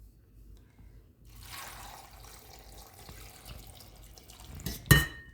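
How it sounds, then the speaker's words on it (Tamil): Water is poured into a pot holding purple yam pieces. A soft, steady trickle builds gradually, then ends in a brief louder splash and clink, close and quiet, without speech. "அடுத்ததாக தண்ணி சேர்ப்போம்."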